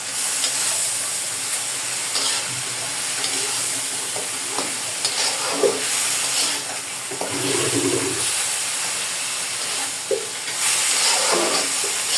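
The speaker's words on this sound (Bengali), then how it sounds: "মাছগুলো এখন আমি ভেজে নিব।" Fish frying in a pan in a home kitchen, a loud steady sizzle and hiss running the whole way, with occasional stirring scrapes and bursts of spattering oil.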